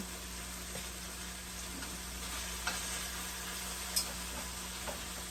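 Tomatoes sauté in a pan with a faint, steady sizzle and crackle under a constant background hum, plus a few soft ticks and scrapes from stirring, quiet and close, no one talking.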